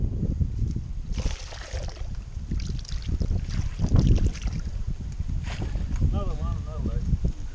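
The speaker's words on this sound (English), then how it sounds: "It's bloody quite windy." Gusty wind rumbles and buffets the microphone steadily, with muffled voices underneath and a few faint chirps near the end.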